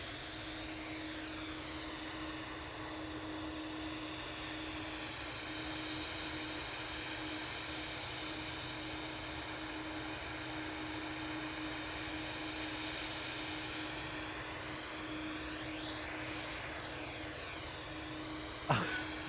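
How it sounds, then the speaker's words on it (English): A Boeing 787-8 Dreamliner departs Manchester Airport for Palma de Mallorca, its engines a loud, sustained roar close by, layered with whining tones that sweep and shift as it passes, ending in a brief sharp knock. "G2EB heading off to Palma de Mallorca now, flight 2622, 787-8 Dreamliner"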